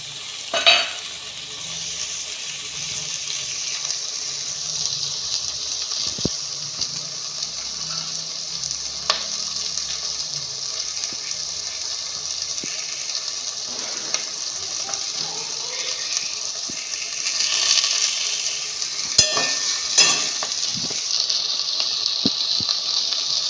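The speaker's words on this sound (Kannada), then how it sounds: "ಮೀಡಿಯಮ್ ಫ್ಲೇಮಲ್ಲಿ ಇಟ್ಕೊಂಡು ಫ್ರೈ ಮಾಡಿ" Tomatoes and onions fry in a pan over a medium flame, a steady sizzling hiss running throughout with occasional stirring scrapes and taps, close and continuous.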